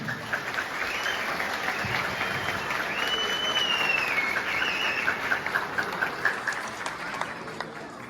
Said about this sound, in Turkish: Ona büyük bir alkış alabilir miyim?